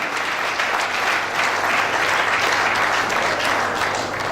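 Steady, loud applause from a ceremony audience clapping for youth leaders, a dense continuous wash of hands that holds at an even level throughout with no voices over it.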